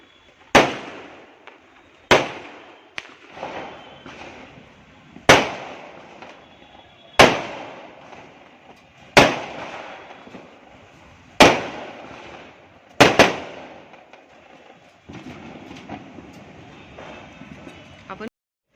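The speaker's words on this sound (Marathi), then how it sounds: "आमच्या इथे फुल दिवाळी आहे मस्त फटाके फुटत आहेत" Diwali-style firecrackers burst one after another at irregular intervals, sharp loud cracks each trailing into a short echo, with a faint crackle near the end.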